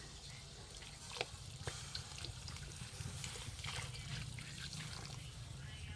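Chicken marinade is poured into a pan as a steady, faint liquid trickle with a few soft splashes, heard close up over a low background hum.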